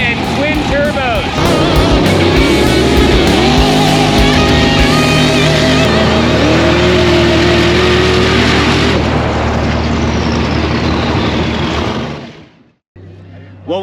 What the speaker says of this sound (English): With a big block Chevy and twin turbos.